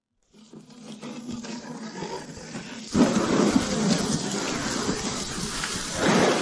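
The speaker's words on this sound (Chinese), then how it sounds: "又是熟悉的大雨" Heavy rain pours steadily with deep rumbling thunder swelling underneath, growing louder partway through and surging again near the end.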